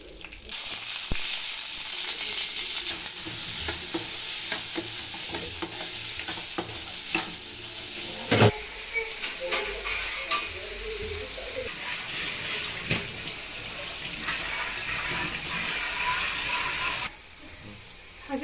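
Curry leaves, garlic and dried chillies fry in a pan for a tempering, giving a loud, continuous close sizzle and crackle with occasional stirring scrapes and knocks.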